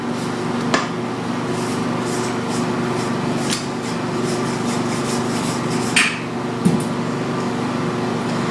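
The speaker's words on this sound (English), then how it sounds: "Now you want to scrape down the sides again." A spatula scrapes the sides of a mixing bowl of vanilla cupcake batter, making soft repeated rubbing strokes with a few sharper scrapes over a steady mechanical hum and no talking.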